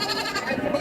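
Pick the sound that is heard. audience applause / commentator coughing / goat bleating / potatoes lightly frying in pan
goat bleating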